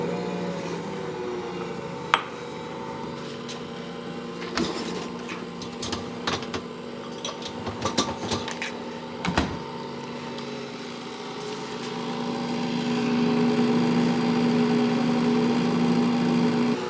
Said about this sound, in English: now we're going to put this up on the mixer and mix it